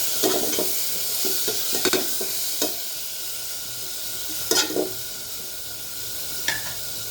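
Vegetables coated with chili powder stir-fry in a pan, a constant close sizzle broken by scraping stirs and brief louder hissing bursts.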